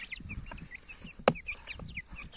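Indian-breed chickens cluck softly in short, repeated calls, close by and fairly quiet, with one sharp knock or click in the middle and no talking.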